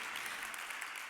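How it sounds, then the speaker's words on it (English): Audience applause at a youth solutions talk event, a brief, steady wash of clapping heard at a distance and fairly faint. "So I think we can get a big round of applause for that"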